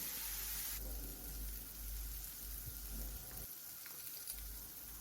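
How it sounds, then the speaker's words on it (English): Broccoli florets sautéing in a pan for a low-carb chicken stir fry, a soft steady sizzle with faint hiss and no talking. "Now add the broccoli florets and saute it for a few minutes"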